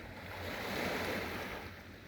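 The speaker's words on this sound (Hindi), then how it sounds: "ये समंदर की लहरें आपको दिखाई दे रही हैं।" Pacific Ocean surf rolls onto a beach in Fiji, a soft, distant wash that swells and recedes once, with light wind rumble and no one speaking.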